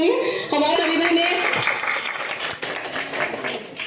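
Applause from an audience at a political gathering in Sitapur, a dense wash of clapping that swells and fades over a few seconds, with a voice speaking over it.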